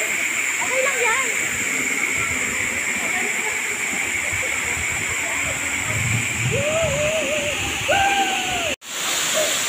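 Batlag Falls pours as a loud, steady rushing hiss of falling water, close and continuous, while voices chatter faintly beneath it, before a sudden brief dropout near the end.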